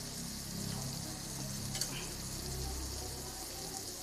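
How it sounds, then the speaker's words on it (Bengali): Spices sautéing in a pan for a potato, pointed gourd and paneer curry, making a soft, steady, faint sizzle with one small clink partway through. "ভালো করে কষিয়ে নেব।"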